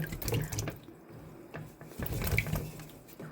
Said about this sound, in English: I'm just going to put them into the ice water